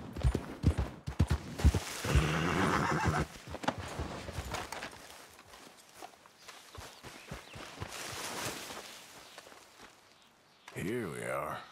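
A ridden horse walks with irregular hoof thuds and clip-clops over rustling movement. A loud, wavering whinny comes at the end, and voices talk throughout.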